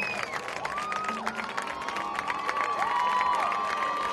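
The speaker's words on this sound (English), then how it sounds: "Let's give them a great round of applause." At a Christian academy homecoming football game, the stadium crowd cheers and claps for the newly named homecoming king and queen, a broad wash of applause with whistles and shouts, steady and fairly distant.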